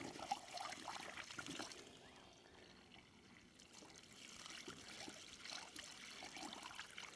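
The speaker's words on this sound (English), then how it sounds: "So I think I need to pour it full of water also." Water poured into the intake pipe of a pond irrigation pump fitted with a check valve, trickling and splashing steadily at a quiet, close level with no talk.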